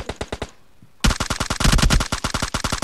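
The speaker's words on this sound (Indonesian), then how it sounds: "Ada yang nembakin dia tuh." Bursts of rapid gunfire in a PUBG Mobile squad match: a short volley, a brief pause, then a longer sustained string of sharp, evenly spaced shots, close and punchy.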